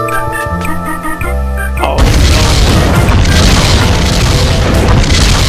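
In the PC game Metal Dogs, tonal game music gives way to a loud deep boom from a cannon shot, followed by a sustained roaring rumble that fills the rest.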